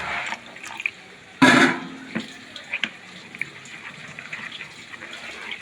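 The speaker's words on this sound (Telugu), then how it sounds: "కాస్త వాటర్ వేద్దాం. వాటర్ వేసి" Water splashes briefly into a bowl, followed by a few small clinks and drips in a quiet room.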